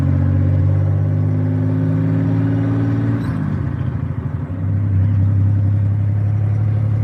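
A V6 car engine with a leak idles loudly after being fired up, a steady low rumble with a brief dip and rough transition midway before settling back into an even, throbbing idle.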